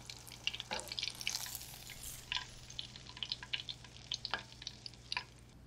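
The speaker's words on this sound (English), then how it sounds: "essentially we're making fried mashed potatoes" Potato croquettes fry in hot oil, a steady close crackling sizzle with scattered pops and spits throughout, alone and fairly quiet.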